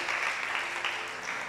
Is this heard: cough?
no